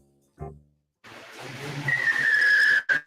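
A car brakes hard and its tires skid, a rising screech with a sustained high squeal lasting over a second, preceded by a short low thump and a gap of silence.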